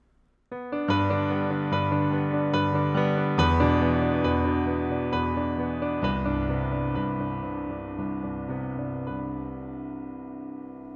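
A solo piano plays the slow closing passage of a song, chords struck one after another and left to ring out and fade at the finish.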